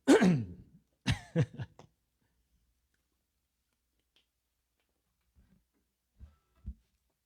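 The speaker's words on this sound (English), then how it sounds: "I better clear my throat after that." A close, gravelly throat clearing followed by a few short guttural grunts, then near silence with faint soft thumps toward the end.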